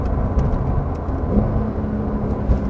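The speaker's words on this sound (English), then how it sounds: "I can really hear the turbo spooling up from behind" Inside a 2020 Porsche 911 992 Carrera S, a steady low engine drone with a faint rising whir from the rear turbo spooling up, continuous and moderately loud with no talking.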